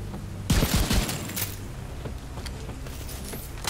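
A semi-automatic assault rifle in the shooter game The Division 2 fires a quick cluster of close, punchy single shots, then a quieter stretch of faint game ambience with no talking.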